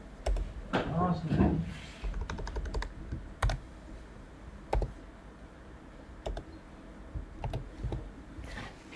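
Keys clatter on a computer keyboard in scattered bursts of close, crisp clicks and taps, with a voice talking intermittently underneath.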